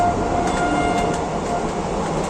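A train rumbles loudly past at close range at a railway crossing, a dense steady roar of wheels and cars with faint rhythmic clatter.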